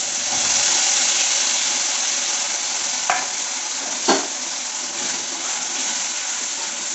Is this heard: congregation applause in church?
no